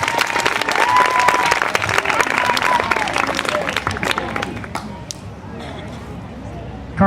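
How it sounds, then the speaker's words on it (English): A crowd at a summer 2011 event applauds a young boy named Andrew, with dense, loud clapping that is steady at first and then thins out, while voices chatter underneath. "Let's give Andrew a round of applause."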